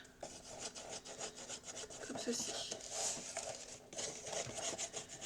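A bone folder is rubbed firmly back and forth over folded paper to crease it for a handmade wedding album, giving soft, close scraping strokes in a steady rhythm while someone speaks briefly.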